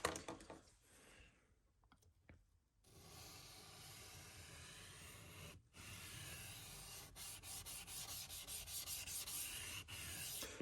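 Oboe reed knife blade being sharpened with long rasping strokes on a stone, a hissing scrape repeated in several sustained passes with brief pauses between them, close and without talk.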